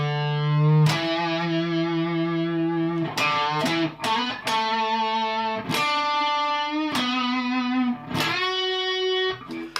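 Distorted electric guitar plays the opening line of a solo, starting on A5 with bends, sustained notes and several sharp re-picked attacks, loud and close with effects and no talking.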